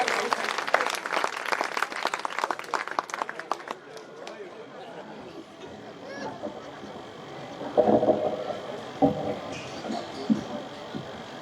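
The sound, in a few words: loud audience applause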